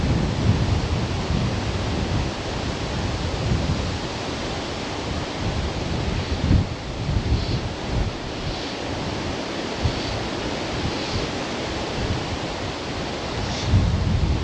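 Strong wind buffets the microphone on a riverbank during fly fishing for trout and salmon, a loud, continuous low roar that swells and dips with gusts and has no voices.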